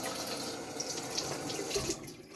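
Tap water runs steadily into a sink during a sharpening stone test, a close, continuous splashing stream with small gurgles and no talk.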